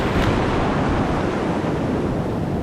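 Ocean waves break and wash onto an Atlantic surf beach with rip-current channels, producing a loud, continuous roaring surf with steady rumble and wind buffeting close to the microphone.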